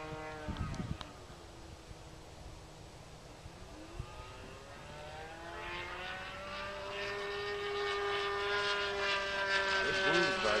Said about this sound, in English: this is a nice flying plane